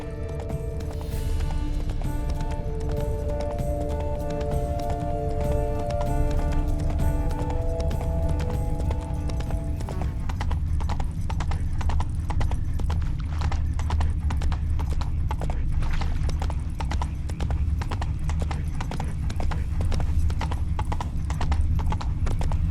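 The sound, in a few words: horse Roach galloping, The Witcher 3 video game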